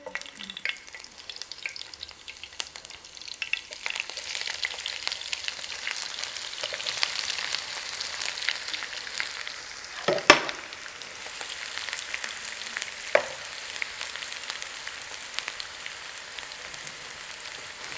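Chopped onions hit hot oil for a Swahili chicken biryani and sizzle steadily, a dense crackling fry with a few sharp clinks of a utensil on the pot, close and alone.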